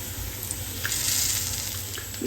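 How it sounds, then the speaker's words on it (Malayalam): Tamarind water pours into a hot pan of bitter gourd, producing a steady hiss and sizzle that continues without pause. "പുളി വെള്ളം ഇതിലേക്ക് ഒഴിക്കാം"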